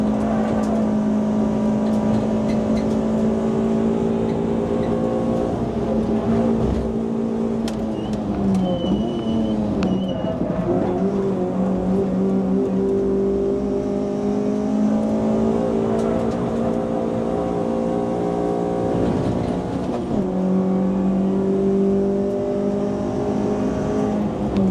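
Suzuki Swift Sport race cars in a race, engines droning and revving steadily close by from an onboard position, with pitch shifts as gears change and rivals run alongside throughout.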